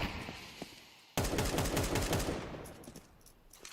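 Automatic gunfire in a Counter-Strike 2 match, a sudden dense burst of rapid shots after a quieter stretch, rattling on loud for over a second before tailing off, with a few faint shots around it.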